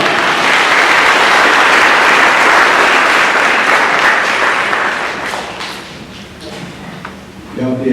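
A school senior awards ceremony audience breaks into loud, full applause that stays strong for about five seconds. It then thins into scattered claps, and a few thumps are heard near the end.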